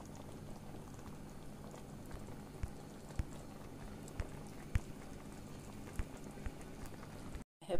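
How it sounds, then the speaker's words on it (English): Rice bubbling in a pot over a low gas flame, a steady soft simmering hiss with scattered faint pops, alone and fairly quiet throughout. "Once it starts bubbling"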